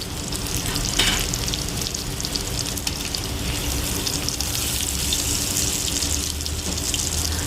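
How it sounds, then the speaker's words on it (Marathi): Fish frying in a pan on a balcony during monsoon rain, a steady close sizzle and crackle running unbroken with watery hiss, no one speaking. "जे मासे आहेत ते आम्ही फ्राय करतोय सध्या मस्त गॅलरीत बसून."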